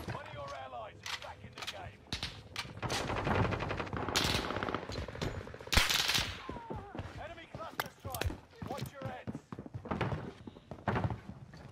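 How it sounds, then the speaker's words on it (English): Gunfire in the video game Call of Duty Warzone on Rebirth Island, rapid bursts and single shots cracking in quick succession alongside impacts, mixed with a player talking excitedly over the action. "I'm getting shot from everywhere, bro."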